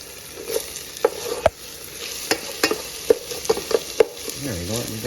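Garlic sizzles in a pan while softened ingredients cook for chicken parmesan, a steady frying hiss broken by sharp clicks and scrapes of stirring, close and alone with no talk.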